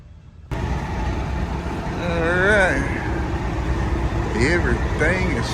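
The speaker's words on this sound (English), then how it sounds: "let the truck running" A truck engine left idling at a roadside stop, a steady low rumble running throughout beneath a voice talking nearby.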